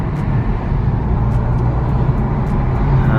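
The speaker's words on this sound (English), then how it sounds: "Dude, the turbo's actually pretty loud." Heard from inside a moving car in city traffic, a steady engine and road drone holds at a constant loud level, with faint higher whooshing over it and no voices.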